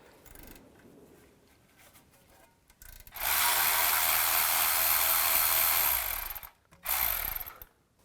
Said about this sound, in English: I'm just going to use a 10mm socket.